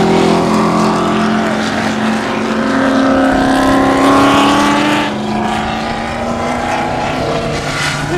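Race cars sweep through a curve at Autódromo Monterrey, engines roaring close and loud with rising and falling pitch as they pass one after another, dense continuous racing noise with no talk.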